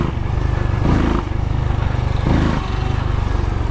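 A QJ SRC 500 motorcycle with a 500cc engine pulls hard in second gear: a loud, steady, throbbing exhaust note that surges twice as it accelerates.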